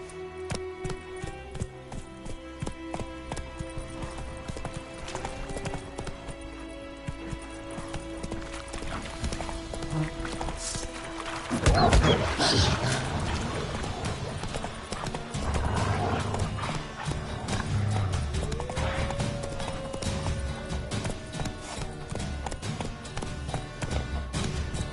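Roach, the horse from the game The Witcher 3, gallops in a steady rapid clip-clop of hooves that runs throughout, with a whinnying neigh rising near the middle over the hoofbeats.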